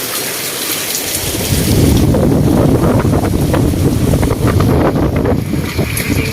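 Strong typhoon wind in Cebu roars and gusts against the microphone, a loud rushing that swells after a moment, with a hiss like driving rain underneath.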